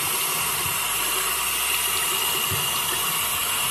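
Running water pours steadily over a leather Cole Haan Zerogrand waterproof Chelsea boot, a continuous broadband hiss and splash close by with no talking.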